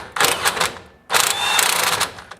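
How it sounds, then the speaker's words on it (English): An impact wrench loosens the top rear shock bolt on a Nissan Titan pickup, two loud buzzing hammering bursts close by, the second longer, separated by a brief pause. "we're just going to use my impact to pull off the top bolt"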